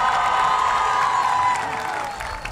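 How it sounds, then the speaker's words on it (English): Large outdoor crowd cheering and applauding at a university parade celebrating a men's basketball team reaching the Elite Eight, a dense sustained roar with whoops that eases slightly toward the end. "Let's give a big round of applause to this incredible group of young men"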